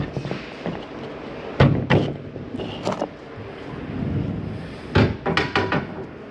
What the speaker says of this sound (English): And swing our doors back in.